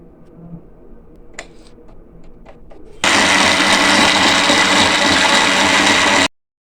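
After a few quiet clicks and handling sounds, a grinder machine blending phalsa berries for sharbat starts up abruptly. It whirs loudly and steadily for about three seconds, then cuts off sharply.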